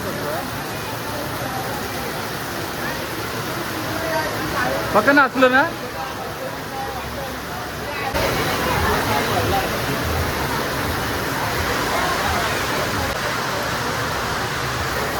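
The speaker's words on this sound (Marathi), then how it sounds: "5:45 वाजल्यात आणि एवढा पाऊस पडतोय बघू शकतो." Heavy rain falls steadily during an evening village palanquin festival, a loud dense hiss that briefly dips as a person speaks a few words, then swells even stronger and continues unbroken.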